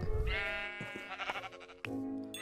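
A Minecraft sheep bleats in a wavering, nasal cry, clear and close, with a second short bleat following near the end.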